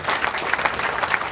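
A crowd in a college induction-day hall applauds, a steady burst of dense clapping that lasts only a moment.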